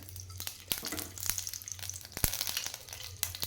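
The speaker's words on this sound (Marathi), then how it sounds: "कढईमध्ये सगळ्यात अगोदर मी टाकते एक चमचा तूप आपलं घरगुती तूप आहे" A spoonful of homemade ghee sizzles and crackles softly in a kadhai, a faint, steady frying hiss broken by small pops and stirring scrapes, heard up close with no talking.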